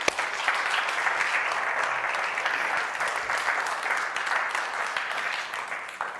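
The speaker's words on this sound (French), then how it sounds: "On va applaudir le Seigneur ensemble." Congregation in a church applauding the Lord together, a full, steady roll of many clapping hands lasting several seconds and fading slightly at the end.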